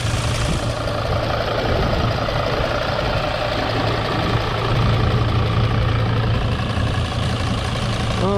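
A 2005 Mercedes Sprinter diesel van engine idling with low compression and a suspected leaky fuel injector, a steady, loud, even low rumble held for the whole stretch with no voices.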